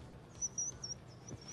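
A person imitating a bird, producing a short series of thin, high chirps, quiet and close, about five quick tweets in a row.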